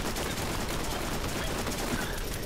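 Enemy gunfire in the shooter game Borderlands rattles on without pause, a dense, steady stream of overlapping shots filling the whole stretch at moderate loudness.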